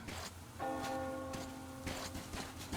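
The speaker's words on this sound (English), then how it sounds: "Do you hear that bell?" A church bell tolls in the video game Metro Exodus, one clear resonant strike ringing out and decaying before a second strike, heard over low ambient background noise without speech.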